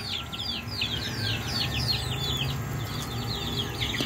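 Small chicks on a farm peep in a dense chorus of high chirps, with fowl clucking faintly underneath and a steady outdoor background.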